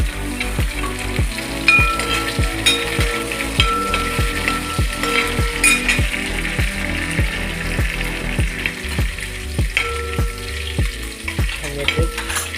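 Curry leaves and chillies sizzle steadily in hot oil for a roasted-coconut sambar, close and loud. A regular rhythmic clack of stirring runs through the frying.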